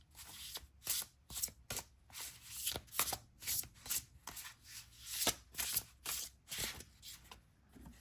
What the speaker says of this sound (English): Let's get a couple more of these cards.